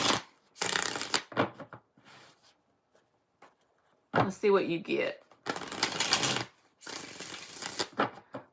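Tarot cards being shuffled by hand in several separate bursts of close, crisp riffling with short pauses between, and a person speaking briefly in the middle.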